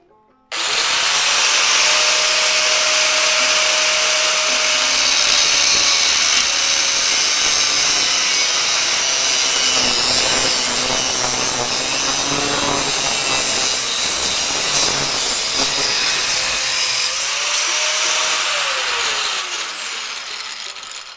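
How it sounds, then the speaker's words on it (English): A handheld grinder cuts metal with a loud, sustained high-pitched whine and harsh hiss that runs nearly twenty seconds, with the pitch dipping slightly under load before it winds down. "I was reaching for my grinder"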